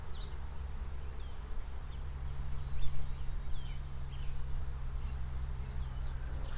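A swarm of honey bees buzzes steadily in a crowded hive box, a dense continuous drone with a deep low hum underneath and occasional higher buzzes from single bees passing close by.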